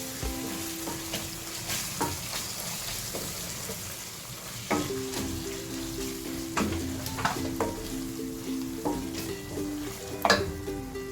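Green chilies and coriander powder sizzle and fry in a pan as they are stirred, a steady close crackle broken by scraping stirs, with no voices.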